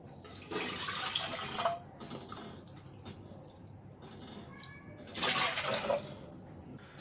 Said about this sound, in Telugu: 2 కప్పుల వాటర్ వేసుకోవాలి.